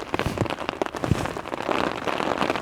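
During storm camping, light rain taps close by in quick, uneven drops, loud and crackly at first, then settling into a denser, steadier patter, with no voices.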